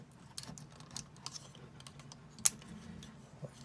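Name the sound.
plastic Transformers toy panels being folded, clicking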